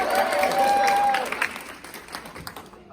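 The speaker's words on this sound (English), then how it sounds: "We can all clap for them." A group claps together at a C2C event, a short burst of applause under a tonal sound that tapers off within a few seconds.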